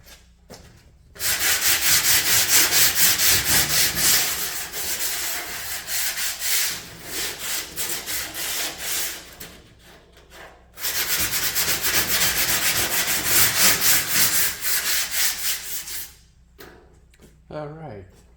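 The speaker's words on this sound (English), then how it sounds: "Now I'm sanding some of the residual rust off" Residual rust being sanded off a Char-Griller charcoal grill part, with two long stretches of loud, rapid abrasive scrubbing separated by a short pause and quieter handling at the start and end.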